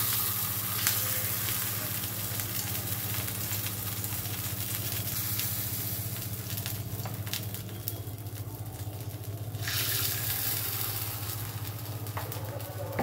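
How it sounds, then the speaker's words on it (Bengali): Rice batter sizzles in a hot clay pan for steamed winter pitha, an even, close frying hiss with a low steady hum beneath and a brief quieter dip midway. "চালের ব্যাটারটা আবারও ভালো করে ঘেঁটে নিয়ে এবার হাতায় করে সরার ভেতর দিয়ে দিচ্ছি"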